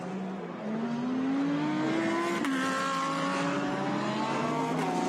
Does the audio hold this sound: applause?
no